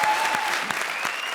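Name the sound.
audience applause on comedy show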